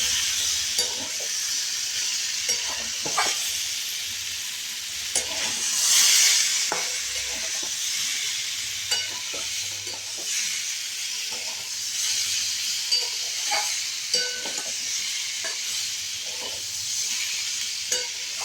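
An aloo paneer curry is stirred in a pan on a home stove, with a continuous soft sizzle and hiss broken by irregular scrapes and knocks of the spoon against the pan.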